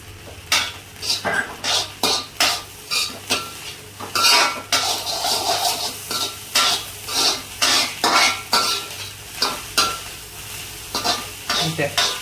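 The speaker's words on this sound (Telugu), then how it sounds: "ఈ మూడు అయితే వేసేసుకున్నాక కలిపేసుకుందాం హైలో పెట్టేసుకొని" Vegetables with green chilli tossed over a high flame for Chinese-style veg fried rice, a utensil clanking and scraping rhythmically against the pan in repeated strokes over a constant sizzle, close and fairly loud, no voices.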